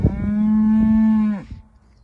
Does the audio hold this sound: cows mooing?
yes